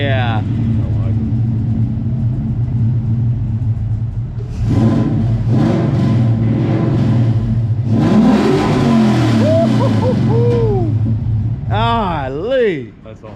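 Drag car engine with open Flowmaster exhaust idles with a loud, lumpy rumble, then revs hard in several rising bursts, ending in a sharp final rev; voices and whooping are faintly mixed in.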